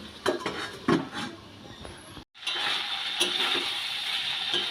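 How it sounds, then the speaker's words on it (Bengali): A metal lid goes onto a cooking pot while potol dorma, stuffed pointed gourd, cooks. A few sharp clinks and scrapes of metal ring out, separated by short pauses, against a steady kitchen hiss. "এবার ঢাকা দিয়ে দেবো একটু"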